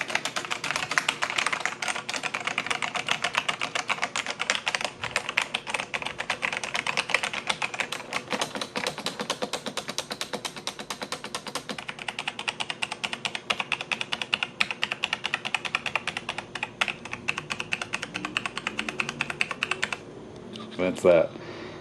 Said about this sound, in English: That's what the keyboard sounds like.